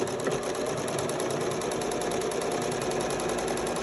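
A sewing machine runs a fast zigzag stitch through a six-panel welding cap, giving a steady, loud, rapid mechanical chatter that continues unbroken and close up, with no voices.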